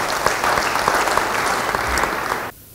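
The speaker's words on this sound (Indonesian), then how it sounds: "Beri tepuk tangan buat Tuhan" A church congregation breaks into loud, dense applause honoring God, a steady roar of many hands that cuts off abruptly near the end, leaving quiet room tone.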